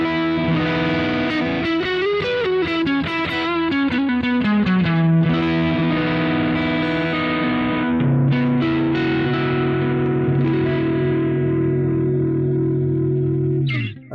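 Electric guitar played through a Boss GT-1 multi-effects unit with reverb switched off, a distorted tone with a quick melodic run of notes that settles into sustained held chords, dry and loud, with no voices.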